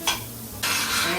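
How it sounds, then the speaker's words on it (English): Peppers, onions and celery sizzling in a roux in a pot, a short burst of frying hiss that drops back, then swells louder and steady, with no talking. "to this roux, I'm gonna add my peppers, onions, celery, and this is gonna cook up."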